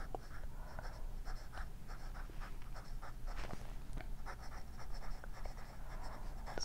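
A fountain pen writes out the Quick Brown Fox sentence on paper, with soft, quiet scratching strokes in short bursts and pauses and no one talking.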